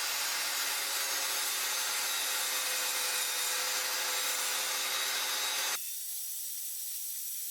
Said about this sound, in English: there you see me cutting some sapele and some figured maple.